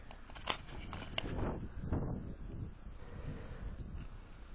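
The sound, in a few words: wind blowing on the mountain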